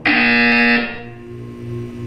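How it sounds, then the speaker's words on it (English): A loud, steady electronic buzzer from the Portal 2 video game sounds alone for about three quarters of a second, then cuts off abruptly to quiet room tone. "When you hear the buzzer, look down at the floor."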